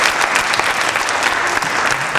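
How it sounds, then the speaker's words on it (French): A dense burst of applause from an audience at a spelling contest held in the Brussels parliament fills the room as a steady wash of many hands clapping, loud and continuous. "On peut applaudir."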